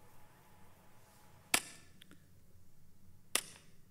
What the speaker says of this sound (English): The Colt 32 with a wet suppressor.